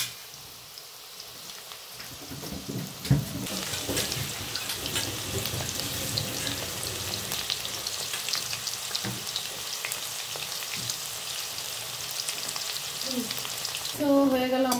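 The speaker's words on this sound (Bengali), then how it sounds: "সুন্দরভাবে এরকমভাবেই ভাজতে হবে, একটু টাইম লাগবে ভাজতে" Fried rice sizzles in a hot pan under a constant close hiss, while stirring adds scraping and tossing sounds throughout.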